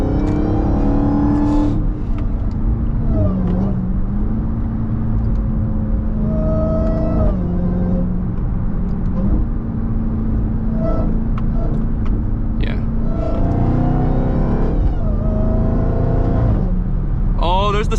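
A Dodge Charger Hellcat pulls hard from the driver's seat, its supercharger whining loudly over a steady, heavy engine roar that rises and falls with each gear, with voices talking over it.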